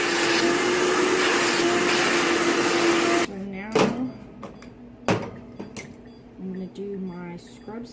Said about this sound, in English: I am going to get the vacuum out and vacuum up these little stray hairs